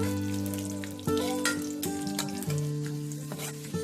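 Curry leaves frying in a pan for egg curry, a close sizzle and crackle with sharp bursts of spattering and a steady hum beneath, no speech.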